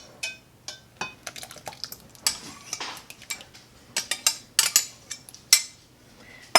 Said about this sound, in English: I'm going to use my Danish whisk, and I'm going to mix my wet ingredients into my dry ingredients.